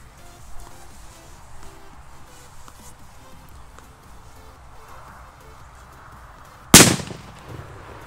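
A 2-gram firecracker goes off outdoors with one sharp, loud bang near the end, after a long stretch of quiet background.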